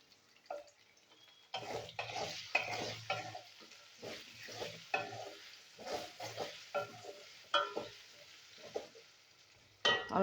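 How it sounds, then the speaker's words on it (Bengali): Potatoes with turmeric and salt frying in a pan, stirred in irregular bursts of scraping and clattering over a soft sizzle, fairly quiet with brief pauses between strokes. "দিয়ে আলুগুলো আমি একটু ভেজে নেবো"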